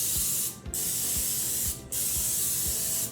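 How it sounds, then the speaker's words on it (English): Canola oil sprayed from a can onto cornflake-coated chicken pieces in a baking pan, making a loud continuous hiss broken by two short pauses, with no talking. "We're gonna seal those cornflakes on the chicken with a spray of canola oil."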